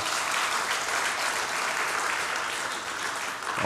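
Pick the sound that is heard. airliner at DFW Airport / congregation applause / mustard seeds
congregation applause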